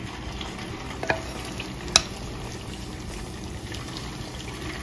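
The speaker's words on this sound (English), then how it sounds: "And we put a little bit of cornstarch. We're gonna fry." Cornstarch-coated shrimp frying for honey walnut shrimp, a steady quiet hiss of hot oil with two sharp clinks of a utensil against the pan, heard close with no speech.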